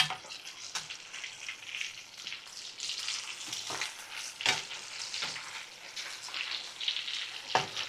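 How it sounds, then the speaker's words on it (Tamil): Chicken 65 pieces fry in hot oil over a low flame, giving a steady soft sizzle with faint crackles and a few sharper pops throughout, no voices. "இப்போ கறியை நல்லா நம்ம சிம்மில் வச்சு ஒரு கறியாக திருப்பி போட்டுக்கலாம்."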